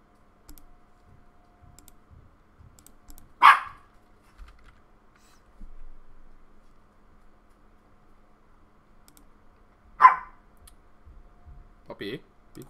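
A small dog barks in two short sharp bursts several seconds apart, indoors beside faint clicking and tapping, with a quiet voice near the end.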